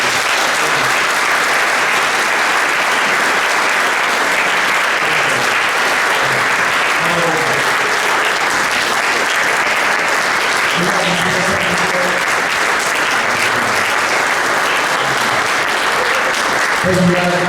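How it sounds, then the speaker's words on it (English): A loud, sustained round of applause fills a university hall at a talk by Curt Schilling, with steady clapping throughout and a few voices and cheers rising through it. "Let's give her a round of applause."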